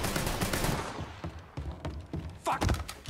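Gunfire in the video game Mafia 3, a string of heavy thudding shots spaced irregularly, with a loud dense burst at the start and another near the end, close and punchy.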